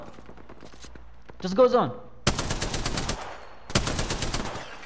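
Automatic weapon fire in the battle royale game Apex Legends, two long rapid bursts of close, loud gunshots separated by a short pause, with a brief spoken line and electronic effects just before the shooting.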